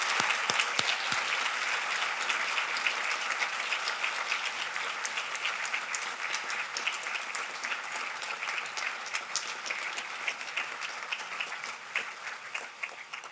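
Sustained applause from a large audience at a U.S. Naval War College graduation ceremony, steady dense clapping for the graduates, honorees and families, holding at an even level throughout with no voices over it.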